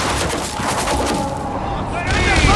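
Battle gunfire in the video game Assassin's Creed Origins, a thick, loud volley of rapid shots layered under shouting voices throughout.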